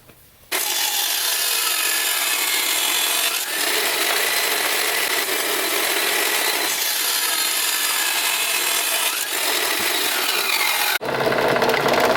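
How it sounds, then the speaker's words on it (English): A power saw cuts steel engine mount pieces for an LS swap into a Nissan 350Z, a loud, steady, close grinding rasp running nearly twelve seconds with brief dips, then abruptly stopping. "as I cut these pieces, I'm just going to go ahead and cut a second piece and duplicate it"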